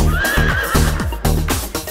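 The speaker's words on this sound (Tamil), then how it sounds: "வேகமாக ஓடும் குதிரை" A horse whinnies loudly with a rising, wavering call over a steady, rhythmic beat of galloping hooves, close and clear, in a cartoon rhyme setting.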